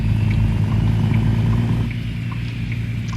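An International Prostar truck engine running again after a stall, a close, steady low rumble with faint clatter that drops slightly in level about halfway through.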